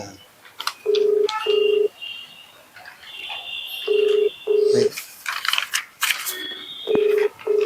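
A phone ringback tone repeats in steady bursts, with faint voices and clicks in between; the call keeps ringing without being answered.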